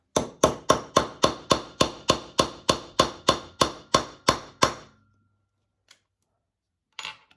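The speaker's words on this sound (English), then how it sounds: "And we hammer that into place." A rapid series of about fifteen sharp metallic hammer strikes on a snap-setting tool fixing snaps onto a bag, steady rhythm, close and loud, then silence with a couple of faint knocks.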